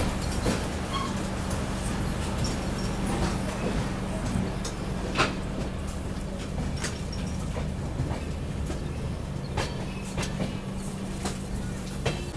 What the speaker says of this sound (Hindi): चलो अभी अपनी ट्रेन निकल गई है नारंगी से।